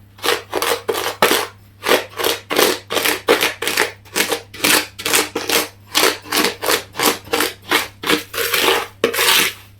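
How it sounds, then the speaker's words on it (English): A tablespoon mixing vanilla into sugar, heard as a close, steady run of around twenty gritty scraping strokes in an even back-and-forth rhythm over a faint constant hum, with no speech. "I'm just going to mix that bit of vanilla in with the sugar"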